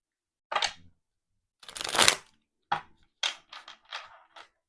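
A few short, crisp bursts of tarot cards being riffled and tapped, separated by brief pauses, close and fairly quiet.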